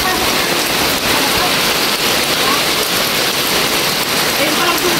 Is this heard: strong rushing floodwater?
yes